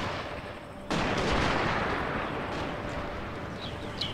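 Rapid, continuous gunfire from massed Gatling guns in the strategy game Shogun 2, a dense sustained roar that bursts in sharply after a quieter opening and holds steady to the end.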